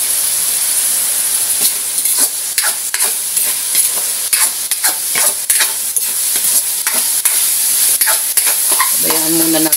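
Fried rice being stirred in a pan with a splash of soy sauce and mushrooms, a steady loud sizzle broken by repeated scraping strokes of a utensil, with a brief clatter near the end.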